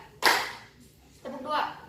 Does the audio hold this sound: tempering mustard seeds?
no